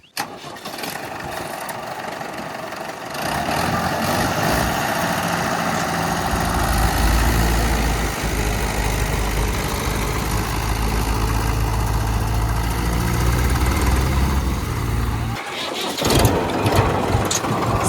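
A tractor on a farm, just pulled free from mud, cranks with a brief churning start and then settles into a loud, steady, low diesel idle close by. The idle runs on for over ten seconds and ends in a few clattering knocks.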